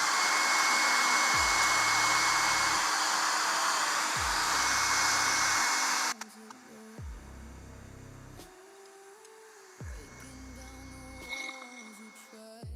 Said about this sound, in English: I'm just drying the paint up